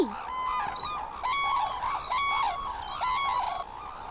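Manchurian cranes give loud, honking trumpet calls in repeated bursts, near and clear with no talking.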